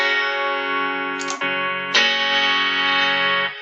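A clean electric guitar rings out in sustained chords, bright and undistorted, with a brief pause and a fresh strum partway through.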